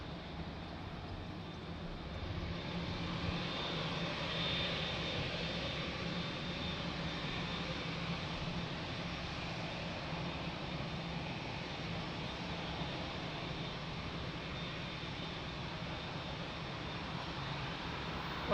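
Airliners at Lisbon Airport, including a Boeing 787 and an Airbus A330, produce a steady, distant jet engine roar that holds at a broad, even level throughout.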